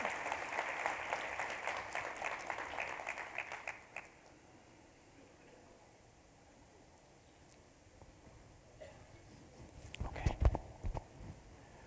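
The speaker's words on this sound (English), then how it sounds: "Please give this team a round of applause." Applause for the Child Protection Team at a general session of the 2014 Child Protection Summit, a moderate, dense patter of clapping that dies away after about four seconds, leaving quiet room tone and a few scattered thumps and movement near the end.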